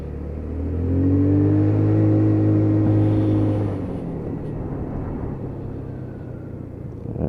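Lexmoto Titan motorcycle engine with a fuel issue revs up on the road with a steady rising drone, holds loud for a few seconds, then eases off the throttle into a lower idle-like rumble.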